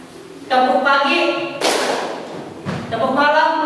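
A group in a teaching session performs a rhythmic clapping chant: voices chant in unison, broken by a loud burst of clapping in the middle and then further chanting.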